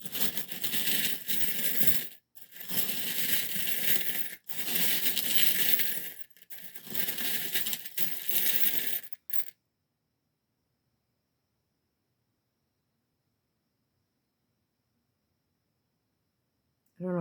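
Small charms rattling and clattering in a cupped hand or container, in several bursts of dense jingling with brief pauses, close and fairly loud, then stopping into silence.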